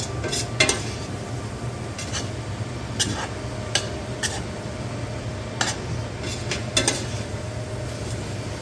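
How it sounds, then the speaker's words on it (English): Ground meat, onions, garlic and herbs are stirred in a chili pot while they fry, giving a steady low sizzle with scattered sharp scrapes and clinks of the spoon against the pot. "we're going to stir it together to toast those herbs and get them to release that flavor"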